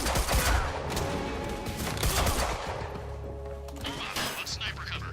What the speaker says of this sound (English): I just wasted my fucking shotgun bullets